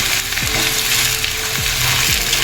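Onions, tomatoes and dried red chillies frying for Kerala beef curry, a dense steady sizzle close up with a few soft scraping stirs, no talking.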